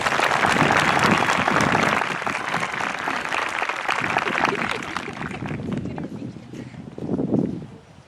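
Loud applause from a crowd at a 2021 Mepham graduation ceremony, dense and sustained clapping that fades somewhat toward the end, with a brief voice near the close.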